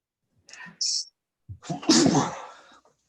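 A breathy intake followed by a loud, close sneeze burst, alone and brief.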